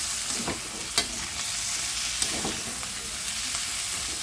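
Chicken and egg adobo frying in a pan, with bay leaf and peppercorns, being stirred: a steady, loud sizzle runs throughout, with scattered scraping clicks from the spoon and no talking.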